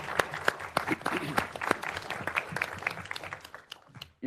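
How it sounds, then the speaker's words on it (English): Scattered applause at an executive committee meeting for Sergeant Briggs and San Castillo, a small group clapping unevenly and fairly faintly, tapering off before a brief cut near the end. "How about a huge round of applause for Sergeant Briggs and San Castillo?"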